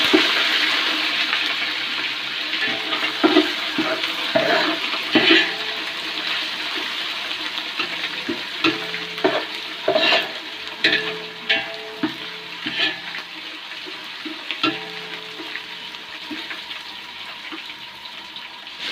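Ginger garlic paste frying for chicken pulao, a steady hiss and sizzle close up with intermittent scraping and stirring knocks, no talk.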